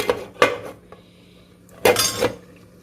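A metal lid set onto a pot of Mangalore-style chicken curry: two close clattering clanks, each with a brief rattle, separated by a quiet pause.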